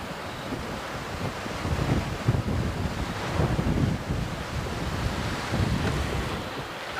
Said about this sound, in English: As I said, it could just be the wind.